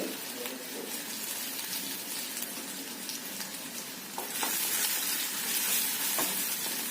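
Ginger and garlic pieces sauté with cumin in a pan over low heat, giving a steady sizzle with occasional spatula scrapes, the sizzle swelling louder partway through.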